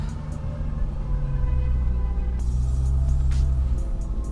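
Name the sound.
Volkswagen Amarok driving uphill off-road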